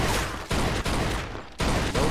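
Rapid bursts of gunfire in the Mafia II video game, with shots punching through cover, dense and continuous with brief gaps between volleys, loud and close.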